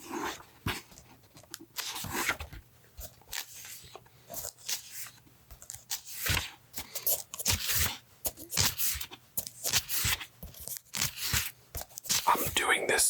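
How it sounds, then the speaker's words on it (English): Book pages turning for ASMR, soft papery swishes and crinkles in irregular bursts close to the microphone, with faint whispered voice between them. "Some page turning."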